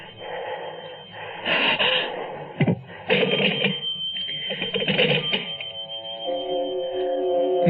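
A telephone bell rings insistently in a radio drama, repeated bursts of ringing with brief gaps, loud and close, with a steady electronic tone toward the end.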